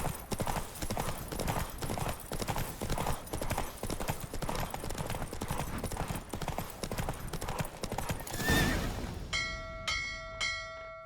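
Steady rhythmic hoofbeats of a galloping horse during a horse race in The Witcher 3, loud and continuous, ending with a swell and a bright chiming tone.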